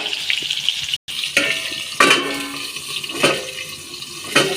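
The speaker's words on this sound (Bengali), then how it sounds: "পটল ভাজা।" Slices of pointed gourd (potol) sizzle and spit in hot oil in a pan, a steady dense frying hiss with a few sharper crackling bursts, close and fairly loud, with no talking.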